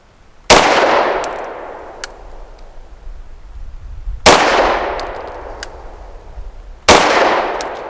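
Three sharp pistol shots from a Canik TTI Combat firing Federal 70-grain frangible lead-free ammunition, spaced a few seconds apart, each a loud crack with a ringing tail and faint metallic clinks of steel targets.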